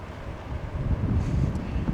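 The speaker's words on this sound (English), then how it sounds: "It's pretty windy today, so I'm not sure how that's going to turn out" Low, rumbling buffeting of wind hitting a microphone on a cold, windy day on a dirt road in Montana, steady and fairly loud throughout with no other sounds.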